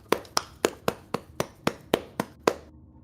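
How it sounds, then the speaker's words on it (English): Nine sharp, evenly spaced single claps ring out close by, each a crisp slap with a short decay, followed by quiet. "Now I can clap with one hand"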